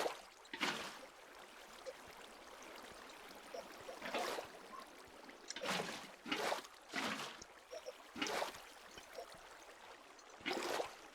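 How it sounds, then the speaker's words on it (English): Water is placed block by block in Minecraft, giving a series of soft splashing gushes of flowing water at irregular intervals, each a short rush, fairly faint and alone. "Place water every other block, so it fills in."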